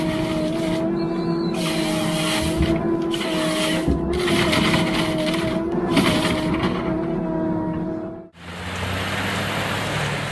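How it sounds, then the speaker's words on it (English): A Morbark 40/36 drum chipper processes wood and trees in a forest, with a loud, steady mechanical roar and tonal engine hum running throughout, briefly dropping away near the end before resuming. "40/36 drum chipper is a powerful tool designed to process wood, trees, and other materials quickly and efficiently"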